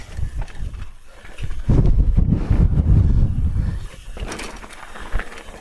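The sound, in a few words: wind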